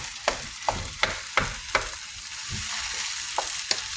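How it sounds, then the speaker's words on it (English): Vegan crumble keema is stirred with onion and tomato in a hot pan, a spoon scraping in a steady series of sharp clacks over a constant sizzle. "let's mix all this crumble with that onion and tomato"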